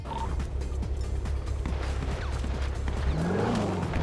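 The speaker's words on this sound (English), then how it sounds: "someone's shooting at you" Gunfire in a GTA video game, a loud continuous rattle of sharp shots packed densely across the whole stretch, over a low steady rumble with scattered clicks.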